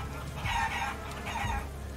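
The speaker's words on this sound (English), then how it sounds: "Hello, chickens." Chickens in the Badlands area of the video game Guacamelee 2 cluck and crow in two short bursts, moderately loud over a steady game background.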